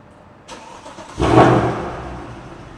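A car starts up close by: a brief click, then the engine cranks, catches with a short rev and settles into a running rumble.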